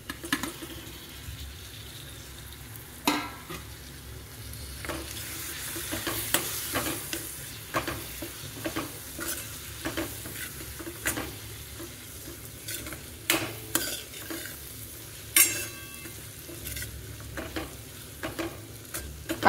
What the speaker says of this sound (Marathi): आणि याच्यामध्ये हा चिरलेला टमाटा टाकून देणार आहे आता.